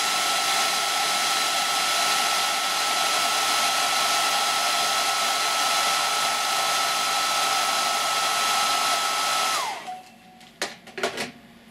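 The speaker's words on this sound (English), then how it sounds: "Brush, give it another hairdryer." A hair dryer blows with a loud, steady whooshing roar for a long stretch while drying a paintbrush, then switches off, followed by a few brief handling clicks.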